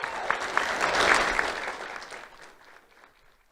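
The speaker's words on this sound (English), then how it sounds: "Let's have a round of applause for Lucilla Perez." Audience clapping at a school awards ceremony, a burst of applause from a seated crowd that swells in the first second and then gradually thins and fades away.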